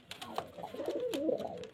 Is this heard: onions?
no